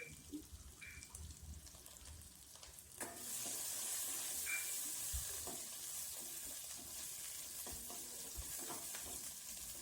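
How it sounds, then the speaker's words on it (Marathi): Crushed garlic, ginger and curry leaves frying in hot oil, a steady close sizzle that swells louder partway through, with occasional stirring clinks and no talk. "आणि ठेचलेलं मग लसूण, आलं आणि कढीपत्ता टाकून घ्यायचं चांगला."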